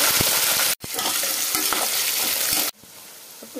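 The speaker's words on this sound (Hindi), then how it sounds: "इसमें हम काटे हुए प्याज को दे देते" Chopped onions tossed into hot spiced oil for a mutton curry, a loud, steady sizzle with stirring scrapes and spoon taps, broken once by a short gap and then dropping to a softer hiss.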